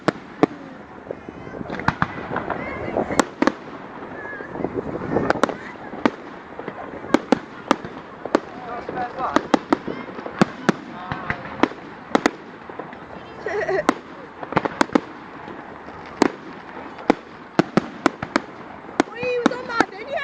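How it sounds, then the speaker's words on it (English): Fireworks bursting at the Lyme Valley display, sharp pops and cracks going off repeatedly at irregular intervals across the whole stretch, close and loud, with people talking underneath. "watching the fireworks"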